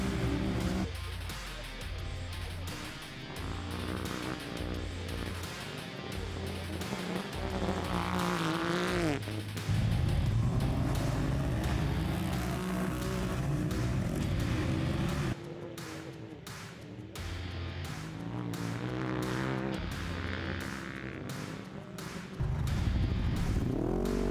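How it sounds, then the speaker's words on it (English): UTV race cars launch off the line and race around a dirt track at a MidEast Racing event, engines roaring and revving continuously at mid distance with shifting pitch. "As Pro Row would blast off the line"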